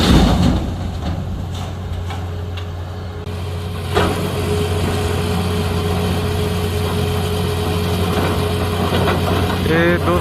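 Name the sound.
truck engine idling at night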